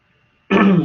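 A person in a classroom lecture breaks the silence with one sudden, harsh, close cough or throat-clearing burst.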